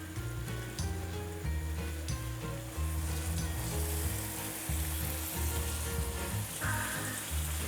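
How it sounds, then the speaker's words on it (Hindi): Chicken pieces fry in a pan for Karachi-style chicken biryani, giving a steady close sizzle with rhythmic stirring and scraping thuds throughout and no talking. "और चिकन को करते हैं साथ में फ्राई।"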